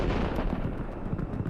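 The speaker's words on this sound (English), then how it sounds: "HIMARS gets the target coordinates and fires a shot. A moment later, we witness a tremendous explosion." Explosion of a Russian Buk missile launcher struck by a HIMARS rocket near Donetsk, heard as a sustained, heavy low rumble with no clear single blast onset, loud and continuous throughout.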